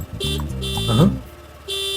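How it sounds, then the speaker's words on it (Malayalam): Three short, loud vehicle horn honks, the last one longer, with a brief voice-like sound between them; the horn sounds when the accelerator is pressed. "ഇതെന്തോടെ ആക്സിലേറ്റർ കൊടുക്കുമ്പോ ഹോൺ അടിക്കണ?"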